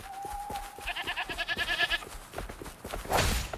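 Goat bleating in the video game Wuthering Waves, a few wavering nasal bleats over rhythmic footsteps and soft background game sounds, ending in a brief louder rushing burst.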